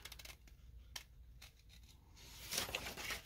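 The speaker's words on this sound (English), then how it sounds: "So you just cut these pages out." Scissors snip through the pages of a book in a few short, crisp cuts, close and fairly quiet, followed by a brighter rustle of paper near the end.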